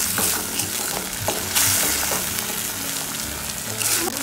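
Ground spices (red chilli, turmeric, salt, coriander-cumin powder) fry in oil as a spoon repeatedly scrapes and stirs the pan, giving a dense close hiss with frequent clattering strokes and no speech.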